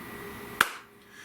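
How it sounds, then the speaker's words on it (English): A single sharp hand clap rings out once in a quiet indoor space, a crisp isolated snap with nothing else around it. "Magic clap, my Libras."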